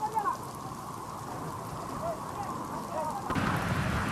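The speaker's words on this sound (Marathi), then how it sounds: "भंडारा जिल्ह्यात जोरदार पाऊस सुरू झाला आहे" Heavy rain pours steadily across Bhandara district, a dense continuous hiss of falling water with faint talk in the background, growing louder toward the end.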